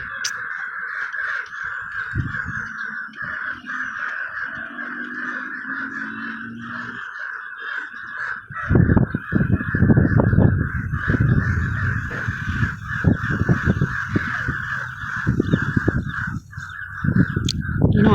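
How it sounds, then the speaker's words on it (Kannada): Crows caw harshly and repeatedly, several birds calling over one another, with a steady high insect-like drone underneath and louder bursts in the second half. "ಅದಕ್ಕೆ ಈ ಕಾಗೆಗಳೆಲ್ಲ ಎಷ್ಟೊಂದು ಕೂಗ್ತಾ ಇದೆ"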